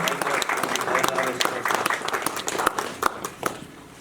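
Audience applauding at the closing ceremony of a photography exhibition in Kula, dense clapping with some voices mixed in, fairly steady and moderately loud for about four seconds.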